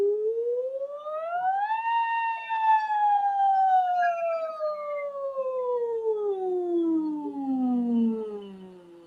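A trained female singer imitates a siren with her voice, gliding smoothly upward and then sweeping slowly down in one long, continuous, loud glissando with no other sound around it.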